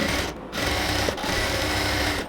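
A sewing machine stitches folded pillow cover fabric in a steady, fast mechanical whir with rapid needle chatter, running continuously up close with a couple of brief dips in pace.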